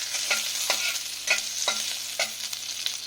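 Whole cardamom, a piece of cinnamon and a bay leaf sizzle in melting sugar in a pan, with a steady close frying hiss and repeated soft stirring scrapes at an uneven rhythm throughout.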